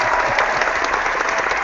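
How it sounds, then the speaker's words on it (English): Dense audience applause fills a hangout event as Justin Wilson is welcomed, a steady wash of many hands clapping close and loud with no talk over it. "I think that's the most applause I've had in a long time."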